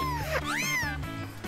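A single drawn-out cat meow in a video game, rising then falling in pitch, sounds close over a steady low background hum.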